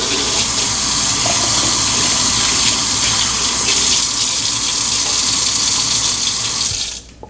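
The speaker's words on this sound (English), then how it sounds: "I'm just going to turn the sink on like lukewarm water" Kitchen sink tap running lukewarm water in a strong, steady stream close by, continuous until it shuts off near the end.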